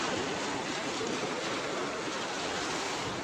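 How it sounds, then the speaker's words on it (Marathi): Rapid flood water flowing past a village bridge, a loud, dense, continuous rushing roar with no pauses and no voices. "पाण्याचा आहे ना प्रवाह वाढूच राहिलाय"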